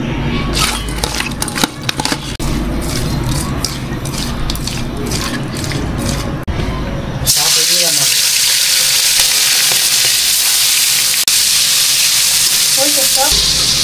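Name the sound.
tengra fish with turmeric and salt frying in oil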